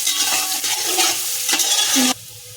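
Onions frying lightly in a pan for chicken mandi, a loud close sizzle with spatula stirring that cuts off abruptly after about two seconds, leaving quiet, with no talking.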